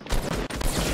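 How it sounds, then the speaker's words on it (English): Rapid bursts of gunfire from the video game Fortnite, loud and sustained over about a second, with a brief dip midway before the firing resumes. "Oh, I'll have to shoot them."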